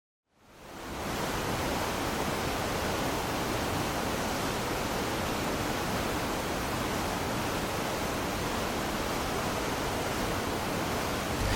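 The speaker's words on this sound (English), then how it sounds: "hid from Morgoth goblins in a cavern behind a waterfall" A waterfall pours in front of a mountain cavern, a constant full-bodied roar that fades in over the first second and then holds steady and loud on its own.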